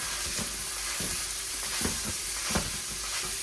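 A pound of ground beef fries in a pan with a steady hiss underneath, broken by a few soft scrapes of a utensil about every half second to second, fairly quiet and close, no talking.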